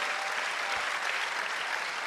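Steady applause fills a church, a dense, even patter of many hands clapping continuously at close range with no voices breaking through.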